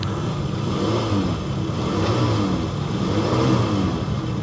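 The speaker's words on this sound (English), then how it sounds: "Listen to that engine." A cold car engine runs loud and close, rough and steady with a slightly uneven rumble as it warms, without clear revving peaks.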